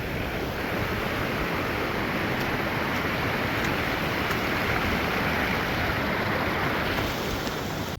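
A mountain stream pours as a small waterfall on the Valley of Flowers trek, a steady close rushing roar of water with no break.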